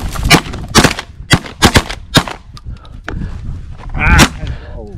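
Shotguns fired at sandhill cranes on a Saskatchewan hunt, a rapid volley of about eight sharp, loud close shots in quick succession with brief gaps, then a voice calls out under the last blasts.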